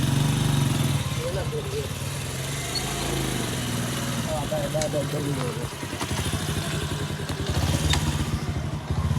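A motorcycle engine runs close by with a steady, low, rattling rumble that persists throughout, while people talk over it.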